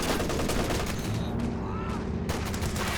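MG34 machine guns fire rapid, dense bursts in a Company of Heroes 2 battle, a steady rattle mixed with scattered rifle shots and explosions, loud and continuous throughout.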